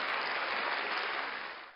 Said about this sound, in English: Let's give them some applause.